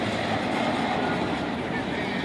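A slow train rolls past very close to a house, giving a steady, loud rumble and rattle of rail cars that holds constant throughout without a break.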